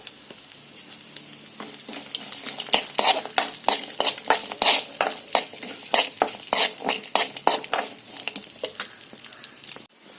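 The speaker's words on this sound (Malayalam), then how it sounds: "ചെറുതായിട്ട് കഷ്ണിച്ച അണ്ടിപ്പരിപ്പ്, കുറച്ച് ബദാം പരിപ്പ്, മുന്തിരി, ഉണക്കമുന്തിരി എന്നിവ ചേർത്ത് നന്നായിട്ടൊന്ന് ഇളക്കി ചെറുതായിട്ടൊന്ന് മൂപ്പിച്ചെടുക്കാം" Chopped cashews, almonds and raisins roasting in a pan for a homestyle kozhukatta filling, stirred constantly, giving a busy rattle of nuts and spoon scrapes over a steady sizzle, close and continuous, without speech.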